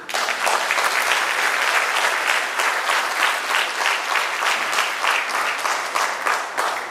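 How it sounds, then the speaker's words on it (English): A room full of people applauds the sponsors at a county elections forum: loud, dense, continuous clapping that holds steady throughout. "So you can clap for the sponsors."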